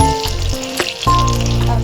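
Potato and semolina snacks frying in oil in a wok, a steady close sizzle that continues throughout with some bubbling and small shifts as the pieces are turned.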